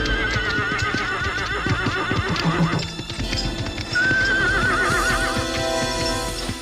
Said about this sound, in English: their horses were suddenly spooked